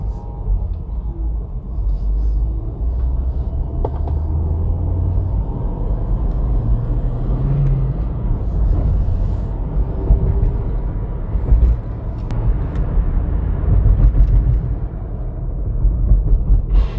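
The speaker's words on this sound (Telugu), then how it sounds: "ఇప్పుడైతే నేను బండి పికప్ అయితే చూపిస్తాను." A Hyundai i10 Sportz car engine pulls through a steady acceleration, its low rumble droning continuously and fairly loud with slight swells as the revs build, no talking over it.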